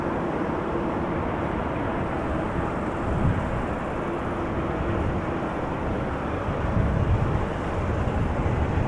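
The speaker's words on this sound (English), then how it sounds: "Gotta love how long they are using those reversers." Airliner thrust reversers at Amsterdam Schiphol Airport give a sustained, broad roar that holds steady for several seconds with slight surges, heard from a distance and mixed with wind, with no talk.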